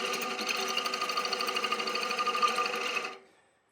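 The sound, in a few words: bowl gouge cutting wood on a lathe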